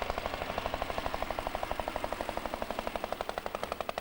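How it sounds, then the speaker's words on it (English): A vintage Edwardian-era Léon Peugeot race car at Mallory Park, its engine hammering out a rapid, steady train of loud, sharp firing beats as it runs close by. "Here's John Bryden, 123 in the Leon Peugeot."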